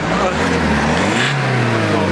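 A small two-cylinder diesel engine of about 17 horsepower, likened to a lawnmower, revs loudly and steadily close by, its low throbbing drone holding throughout.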